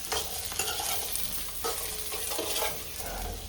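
Food sizzling in hot oil in a pan for Gujarati paneer curry, a steady crackling hiss with periodic scraping stir strokes, close and continuous, no voices.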